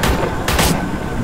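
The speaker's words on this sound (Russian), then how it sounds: "каждая патронка у этого дробовика отдельно очень мощная" Shotgun fire in the video game Forgive Me Father: a pair of heavy, booming blasts in quick succession, loud and sharp against a low rumbling game background.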